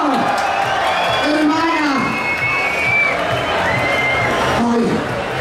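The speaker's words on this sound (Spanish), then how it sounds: "¡Fuerte la aplauso!" An audience applauds and cheers loudly, a steady wash of clapping with whoops and shouts rising over it, while a woman calls out through the noise.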